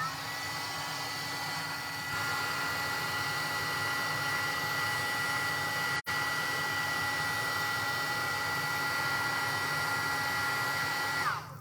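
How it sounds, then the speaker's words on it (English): A heat gun blows hot air with a steady high-pitched whine and airy roar, loud and continuous, briefly cut off midway. "my heat tool, and I'm going to turn it on. So it's going to sound a little bit like a hairdryer."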